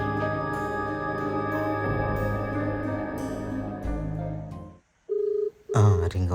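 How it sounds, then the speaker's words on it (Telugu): After a number is dialed on a mobile phone, a ringback tone sounds in short repeated beeps toward the end, following a stretch of steady background music. "రింగ్ అవుతుంది."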